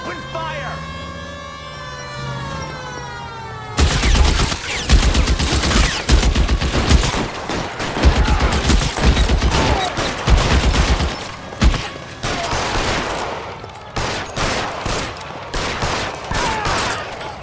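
A siren wails and voices speak at the start, then a loud, sustained shootout in L.A. Noire breaks out, with rapid, dense volleys of gunfire rattling on for many seconds, broken by brief pauses.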